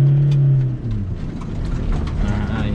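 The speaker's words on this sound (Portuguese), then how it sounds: "Sem controle de tração, né? Você vê que o pneu patina mesmo." A Toyota Hilux 4x4 without traction control spins a tyre on dirt, the engine note rising and falling in a rough, loud churn with gritty scrabbling throughout.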